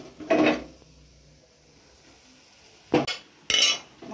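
Peas for Bengali ghugni tip into fried spiced masala in a pan, three short clattering bursts of utensil against metal separated by quiet pauses.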